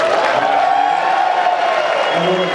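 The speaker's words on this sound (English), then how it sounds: "Round of applause, everybody." A convention panel audience at FanX Salt Lake City 2023 breaks into a steady wash of applause and cheering that holds at an even level throughout, with a few whoops mixed in.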